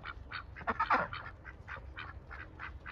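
Pekin ducks quack in a rapid, overlapping run of nasal calls, fairly close and moderately loud, with one louder cluster early on and no talking.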